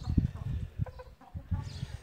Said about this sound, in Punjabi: ਇਹ ਮੁਰਗੇ ਰੱਖੇ ਨੇ ਇਹਨਾਂ ਨੇ,